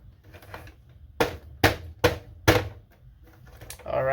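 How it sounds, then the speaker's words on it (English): Plastic back panel of a PS5 console being pried off, four sharp clicks and snaps in quick succession, close up, with soft handling rustle before and a scrape at the end. "We're going to have to take off the back panel here too."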